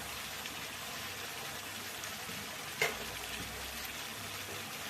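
Roasted ground masala and ginger fry in oil as a steady, fairly faint sizzle. A single brief clatter stands out near the middle, and no one speaks.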